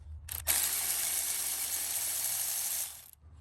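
A ratchet wrench works a bottom starter bolt loose on a Toyota FJ Cruiser during transmission removal, giving one steady, close, continuous ratcheting run of about two and a half seconds with no talk.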